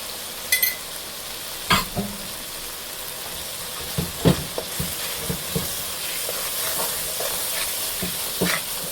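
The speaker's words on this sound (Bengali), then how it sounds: "এখন এই মশলাটা সুন্দর করে কষিয়ে নেব। শুকনো মরিচের গুঁড়া দিয়ে দিলাম।" Spice paste with dried chilli powder sizzles in hot oil for a tilapia fish curry, a steady close hiss broken by several sharp scrapes and clicks of stirring.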